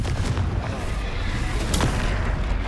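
A Confringo fire spell cast in Hogwarts Legacy bursts in a loud, dense rumble of booming impacts, with a sharp crack near the end, sustained throughout with game combat noise.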